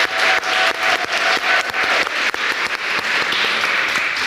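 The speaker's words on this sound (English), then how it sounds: "Show of applause," An audience at a panel discussion after a documentary screening claps loudly and steadily for about four seconds, a dense wash of hand claps with sharper individual slaps standing out.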